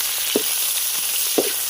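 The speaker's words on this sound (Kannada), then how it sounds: "ಎಣ್ಣೆ ಕಾದಿದೆ, ಇವಾಗ ಈರುಳ್ಳಿ ಹಾಕ್ಬಿಟ್ಟು ಚೆನ್ನಾಗಿ ಫ್ರೈ ಮಾಡ್ಕೊತೀನಿ." Onions sizzle steadily in hot oil in a pan for mutton chops, a continuous close hiss broken by two soft stirring knocks.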